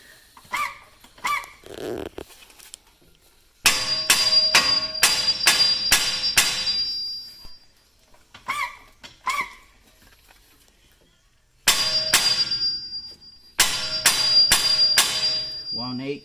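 A strut on a 2017 Ford Escape being tapped into place, with bursts of sharp, rapid hammer strikes ringing metallically up close, separated by quieter pauses with a few softer knocks.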